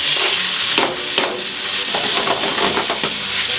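Garlic and onions added to a pan with chicken thighs and lardons for a chicken cassoulet, sizzling and frying up close and loud while a utensil scrapes and stirs with a few sharp knocks against the pan.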